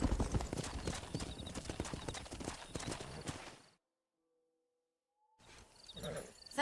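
Horse hooves clip-clop at a steady trot in the Red Dead Redemption video game, close and rhythmic, then cut to near silence before the hoofbeats resume faintly at the end.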